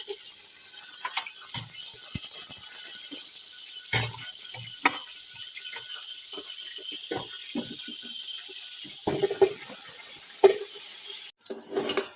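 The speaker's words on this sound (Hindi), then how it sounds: "भुनाई करनी 5 मिनट हाई फ्लेम पे।" Beef trotters frying in ghee over a high flame, with a steady broadband sizzle and scattered clicks and clatters of stirring, cut off near the end by a brief dropout.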